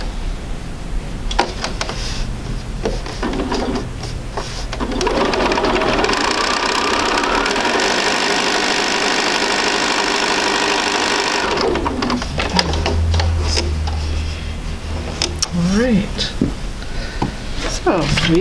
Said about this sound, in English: bring it right to my sewing machine